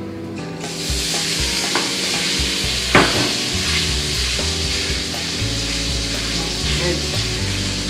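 Ground pork frying in two to three tablespoons of hot cooking oil for keema curry, a steady loud sizzle with a spatula stirring and scraping the pan, and occasional clinks of cookware.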